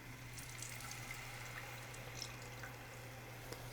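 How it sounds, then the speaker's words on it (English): Half and half poured into a simmering pan for mac and cheese, a soft steady liquid pour over a low constant hum, faint and unbroken. "we're going to go ahead and add the dairy"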